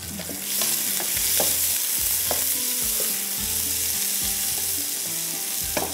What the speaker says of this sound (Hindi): प्याज को रखा है, अच्छी तरह से प्याज जो है हमारा ब्राउन हो जाए